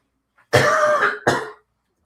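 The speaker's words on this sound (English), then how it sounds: "Let me cough real quick." Two harsh coughs close to the microphone, a long rasping burst followed by a shorter one, with silence around them.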